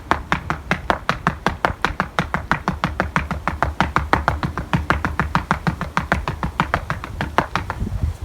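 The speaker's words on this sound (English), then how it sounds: "So you see how I'm stepping on the ground now?" Rapid, steady footfalls of someone jogging in place while jumping rope, each foot strike landing as a crisp tap in an even rhythm for several seconds, close and fairly loud with no talking.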